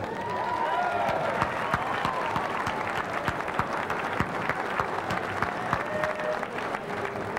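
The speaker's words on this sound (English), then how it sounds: "could you please assist me with a big round of applause for the producer of tonight's show" An audience at a Williams/Bally/Midway pinball and coin-op distributor show gives the producer a long round of applause, sustained dense clapping with a few sharper individual claps standing out and faint murmured voices beneath.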